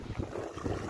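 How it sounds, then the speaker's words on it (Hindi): Cold wind gusts steadily across open farm fields near water, a broad rushing noise buffeting the microphone throughout with no voices. "इतनी ठंडी हवा चल रही है।"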